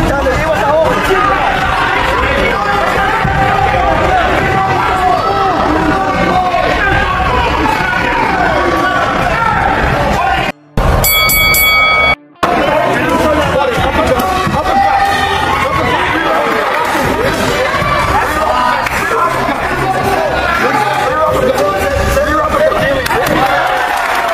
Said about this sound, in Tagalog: talagang hiyawan ang mga fans ni Fleming